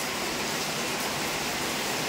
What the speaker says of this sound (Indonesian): Sekarang kok hujan deras ya